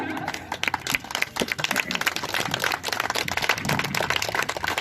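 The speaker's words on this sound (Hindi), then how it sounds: "अपने स्थान खड़े कर जो लोग ताली बजा के स्वागत करते हैं पृथ्वी जी का।" A crowd at an outdoor political gathering claps in dense, continuous applause while a voice talks over it.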